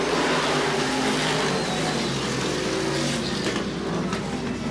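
Supermodified race cars starting a race at Sandusky Speedway in 1985, a dense roar of engines accelerating together, loud and continuous.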